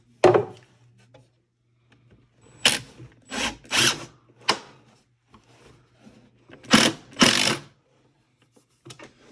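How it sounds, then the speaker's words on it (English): Construction screws driven into a wooden overlay drawer front, heard as several separate bursts of drill whirring and ratcheting with brief pauses between them, fairly close and without talk. "Putting the screw in right here and cracked it."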